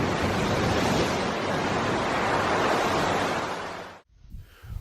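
Artificial waves surge in a test basin as a steady, loud, broad rush of churning water that cuts off abruptly near the end, leaving a few faint splashes.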